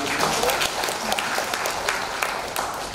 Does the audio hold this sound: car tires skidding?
no